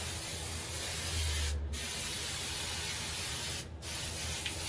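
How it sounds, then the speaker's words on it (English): Spray adhesive fan-sprayed from an aerosol can onto foam while rebuilding a 1966 GMC Chevy truck bench seat cushion: a steady close hiss throughout, broken by two brief pauses. "Just going to fan spray it on there."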